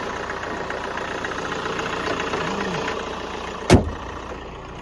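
The diesel engine of a Stylevan Equinox IV 4x4 camper van idles steadily after a cold start in sub-zero weather, a low even rumble near by, broken once by a sharp knock toward the end.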